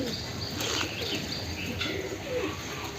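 Pigeon cooing softly amid birdsong and faint chirps, a black pigeon that was caught and released now returning each day, heard at moderate distance over steady outdoor background noise.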